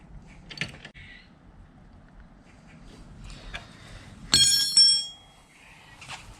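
Metal tool clicks and creaks while a bolt is tightened on a rear set foot peg of a Honda Ruckus scooter. Scattered close clicks, with one brief bright metallic ring midway, and no talk.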